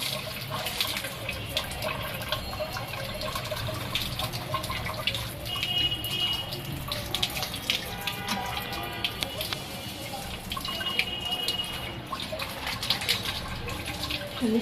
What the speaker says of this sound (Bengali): জায়গাটা সুন্দর করে ধুয়ে নিছে পানির কলে চলে গেছে